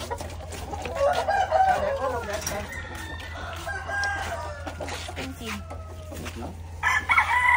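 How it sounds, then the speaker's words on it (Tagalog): Chickens cluck repeatedly and a rooster crows close by on a farmyard, with a faint voice and ambient noise underneath throughout. "There's a chicken!"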